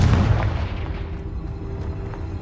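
A Bombarda explosion spell in the Hogwarts Legacy video game, a single heavy booming blast at the start that rumbles low and fades into a decaying tail over about two seconds.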